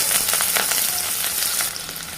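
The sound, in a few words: onion and curry leaves frying in hot oil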